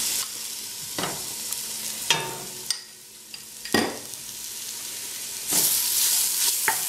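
A spice mixture for lamb curry fries gently over low heat in a pan, with a steady soft sizzle broken by a few sharp stirring scrapes.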